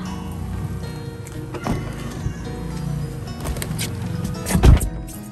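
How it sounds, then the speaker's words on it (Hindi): Rain falling outdoors, a constant fine patter of drops with scattered nearby thumps and knocks, one louder knock near the end. "चलो भाई चलो बारिश हो रही है"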